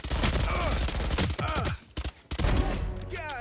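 Valorant gunfire arrives in sharp bursts and single cracks with short gaps between them, mixed with game effects and someone talking in German.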